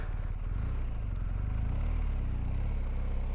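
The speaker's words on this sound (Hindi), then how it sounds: "अभी यहाँ से बाइक को निकालते धीरे धीरे।" A motorcycle engine idles and putters low as the bike is eased slowly over a rocky hillside trail strewn with large stones, a steady mid-level rumble with faint clatter.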